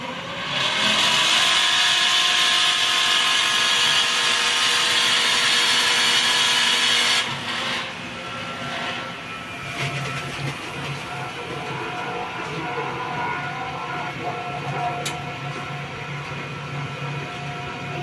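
A vacuum fryer's pump motor runs steadily at close range, starting with a loud broadband rush that drops after about seven seconds to a lower, even mechanical hum with tonal whine.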